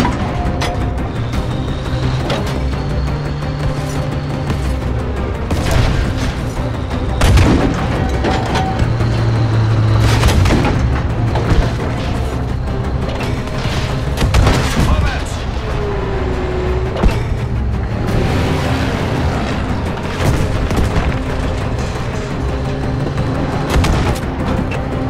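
Tank cannon fire in a World War II battle in Battlefield 5, with booming blasts amid rumbling tank engines and shouted commands in German over a busy, loud battlefield.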